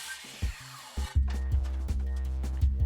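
A circular saw running along a Kreg AccuCut guide rips through wood, starting after a quiet moment with a steady loud whine and a few thumps near the start.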